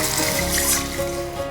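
Water pours into a soup pot holding fried tomatoes and green onions, a continuous close splashing rush that persists throughout.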